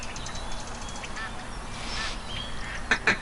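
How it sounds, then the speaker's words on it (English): Ducks quack in a duck hunting video game, a few nasal calls scattered over a low steady background, with a pair of louder quacks near the end. "Hey, there's some ducks coming in."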